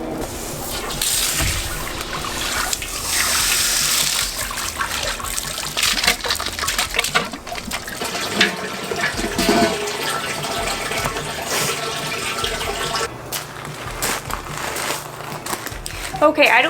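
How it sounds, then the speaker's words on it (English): Water gushes and splashes into a container for off-grid laundry, a continuous rushing, bubbling flow close by with a person talking over it. "now we're going to fill it up with water."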